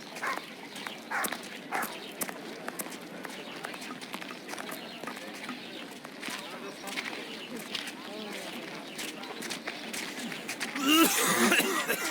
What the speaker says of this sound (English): I can hear someone coughing more than is natural